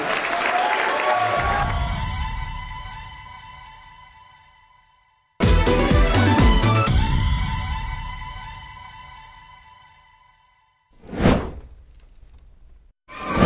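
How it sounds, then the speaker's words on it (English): Audience applause at the Miss Asia Sacramento 2010 beauty pageant swells and fades over several seconds, followed by a burst of louder, sharper clapping that tapers off, then a brief whooshing thump near the end. "Let's give them a nice warm round of applause."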